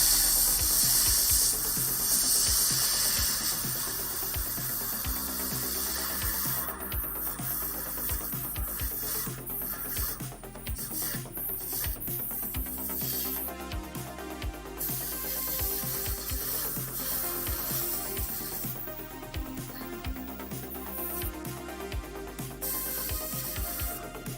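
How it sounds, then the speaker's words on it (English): Spray paint hisses onto a Warhammer Age of Sigmar Stormcast Eternals Prosecutor miniature in a long continuous spray, broken by short pauses and mechanical clicks from the can. "Spraying and then just goes solid."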